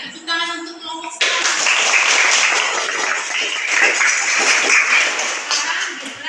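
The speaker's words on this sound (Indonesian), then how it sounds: "Iya, tepuk tangan untuk kelompok 1." A classroom of students bursts into applause for a presenting group, dense steady clapping that follows a short spoken line and carries on loudly to the end.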